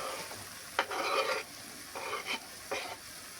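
Cubed eggplant sizzles in a hot pan, with bursts of scraping and stirring that come and go in a loose rhythm; no voices.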